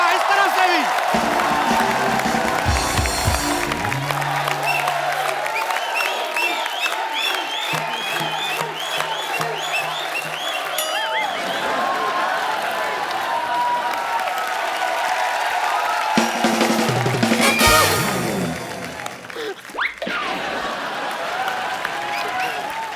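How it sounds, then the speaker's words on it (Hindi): Studio audience on a Hindi comedy talk show bursts into loud, sustained applause and cheering with whoops, continuing steadily for the full length, with brief voices over the crowd noise. "जोरदार तालियां इस तरफ से भी।"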